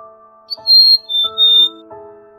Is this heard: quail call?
yes